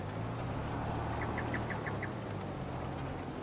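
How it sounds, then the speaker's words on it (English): A tractor's GPS guidance steering sounds a run of about six quick, evenly spaced high chirps in the middle of a constant low engine drone in Farming Simulator 25, with no talk. "So that chirp, the other tractors don't do that chirpy sound."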